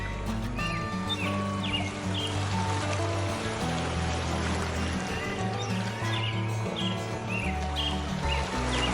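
A river flows steadily beside a modern house set among mountains, its continuous watery rush and trickle filling the scene at a soft, even level, with faint birdsong rising above it.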